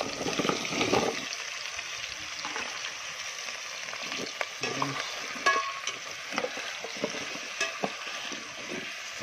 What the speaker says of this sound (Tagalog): sabay natin sa gisa yung kalabasa guys para madaling luto